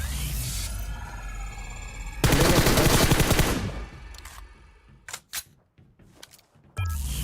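PUBG Mobile gunfire rings out in a dense, loud burst of rapid shots lasting over a second, followed by scattered single cracks and another burst at the end, with no voices over it.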